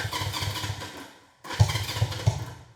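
A 1971 Honda CB350 cafe racer cranks and fires, its engine chugging loudly up close, cutting out briefly, then catching again and running with uneven, lumpy pulses.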